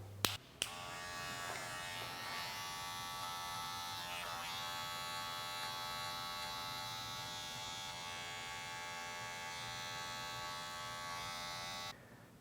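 A Wahl electric hair clipper fitted with a half attachment guide comb hums in a steady, close buzz, switching on after a couple of clicks and cutting off abruptly near the end.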